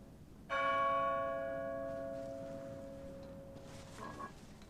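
A single bell strike in the Splinter Cell HD presidential palace mission, a bright clang followed by a long ringing decay that fades slowly over several seconds over quiet ambience.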